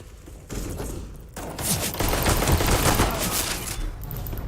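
Rapid bursts of gunfire in a CS:GO deathmatch: a short volley, a pause, then loud sustained shooting with overlapping shots and automatic fire.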